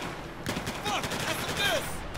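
Weapon fire aimed at a helicopter in the Battlefield 4 single-player campaign, heard as a quick, dense burst of shots at moderate-to-low volume lasting a couple of seconds.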